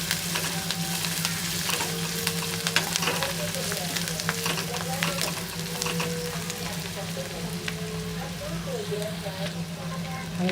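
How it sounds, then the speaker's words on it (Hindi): Chopped green chillies sizzle and crackle in hot oil in a pan while being stirred for poha, a continuous close frying hiss with scraping strokes. "अच्छे से मिक्स करेंगे।"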